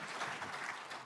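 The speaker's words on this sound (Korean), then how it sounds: "박수 부탁드립니다" An audience applauding at a political speech, a brief continuous wash of clapping at moderate level with no voices over it.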